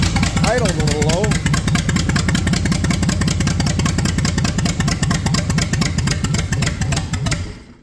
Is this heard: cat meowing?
no